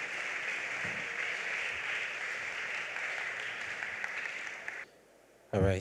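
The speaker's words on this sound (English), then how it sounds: "Please, a round of applause for our guest speaker as he takes his seat." A graduation ceremony audience at Tema International School gives the guest speaker a sustained round of applause, a steady wash of many hands clapping that stops abruptly after about five seconds.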